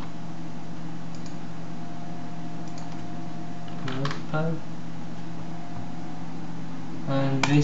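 Keys on a computer keyboard clatter in two short clusters of quick clicks, typing into the search box of the Ubuntu software center over a steady background hum.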